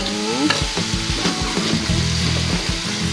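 Spice paste for soto ayam is stirred in a frying pan, with repeated close scraping strokes over a steady sizzle.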